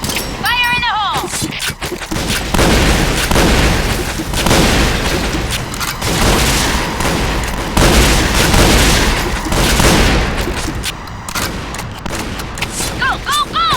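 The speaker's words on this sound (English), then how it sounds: "Fire in the hole!" Deep booms and crackling gunfire from the shooter game Point Blank fill the whole stretch without pause, loud and dense, as a grenade goes off amid the fight with voices calling out underneath.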